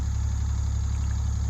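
A Yanmar tractor engine idles steadily nearby, a low, even rumble with a regular throbbing pulse and no voices.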